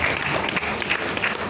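Audience applause at a school literary festival prize-giving, a loud sustained patter of many hands clapping throughout, fairly close.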